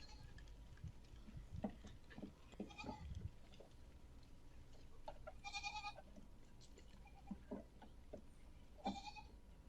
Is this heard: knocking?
no